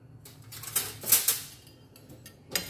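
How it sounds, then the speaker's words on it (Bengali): Flattened rice (chira) dry-roasts in a pan with no oil, giving faint scattered rattles and a few sharper scraping clinks of stirring, quiet and close with gaps between. "শুধুমাত্র শুকনো খোলায় চিড়াটা ভেজে নেব।"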